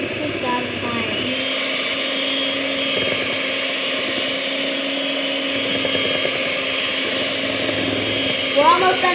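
An electric whisk mixes cake batter in a home kitchen with a steady motorized whir, continuous and close. A voice talks faintly over it at times.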